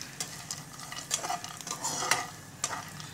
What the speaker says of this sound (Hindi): एक मिनट तक चलाऊंगी मैं इसको पहले